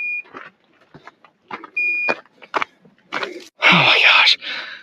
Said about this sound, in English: So the beeping noise was my drone controller